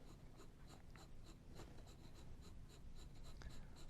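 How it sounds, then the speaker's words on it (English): Soft, steady graphite scratching of a 4B pencil shading on paper, a continuous close-up rasp with repeated short strokes and no talking. "we're going to use this 4B pencil"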